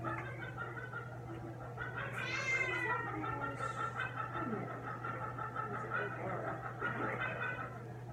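A cat restrained on an exam table for a temperature check meows and yowls in protest several times, close and fairly loud, over a steady low electrical hum in a veterinary clinic.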